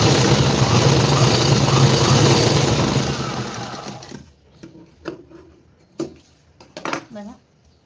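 A domestic sewing machine runs loud and steady for about four seconds while topstitching a lined garment for a neat finish, then stops, followed by a few short clicks and handling sounds.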